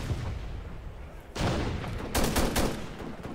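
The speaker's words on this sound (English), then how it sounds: "Was that sniper he got me with?" Sniper rifle fire in the shooter game Ghost Recon Future Soldier, a sharp loud crack followed by a second burst of gunfire moments later over a rumbling battlefield background.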